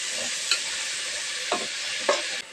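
Mixed vegetables and browned onions for pulao fry with a constant sizzle in the pan, while a spoon scrapes and stirs them in three distinct strokes.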